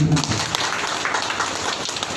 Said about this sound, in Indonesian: Tepuk tangan dulu Bapak.